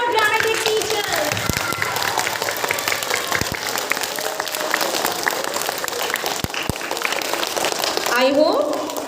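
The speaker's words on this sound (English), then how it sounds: "So give a huge round of applause to all your dramatic teachers." Children's Day audience of students clapping for their teachers after a skit, a dense, continuous patter of applause with a few sharp thumps and voices rising near the end.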